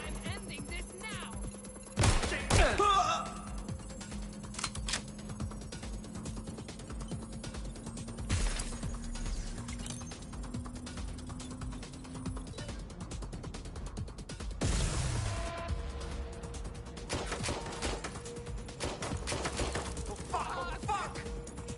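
Gunfire in the video game Watch Dogs: Legion, with a few sharp, loud shots and mechanical clacks spread across a tense stretch of in-game ambience and background hum, with voices speaking at points.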